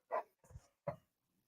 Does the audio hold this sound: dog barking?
yes